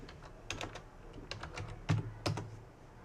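Typing on a computer keyboard, a run of distinct key clicks in short bursts with brief pauses, close and fairly crisp, no talking.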